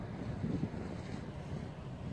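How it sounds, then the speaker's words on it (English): Wind blows across a wind turbine test site at Coffs Harbour, with the turbine about 5.5 meters up, a steady low rushing roar buffeting the microphone in faint gusts, with no voices. "So we're just picking up the bottom of where all the wind is."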